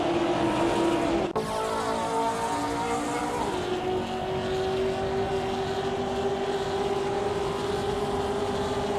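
Race cars launching off the start line in a racing video game: a loud engine roar surges with a sharp shift, then settles into a steady high whine as the cars pull away.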